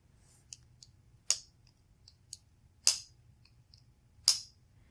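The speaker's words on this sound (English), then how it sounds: "Nice click to it. It's a lock back." Crisp lockback blade clicks from an A.G. Russell Arkansas Hunter folding knife with brown marquetry handle, several sharp snaps and lighter ticks spaced irregularly across a quiet background.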